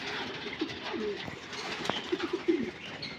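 Pigeons coo repeatedly at a large pigeon farm, several soft throaty calls overlapping at a moderate distance, with a steady murmur of birds behind them and no talking.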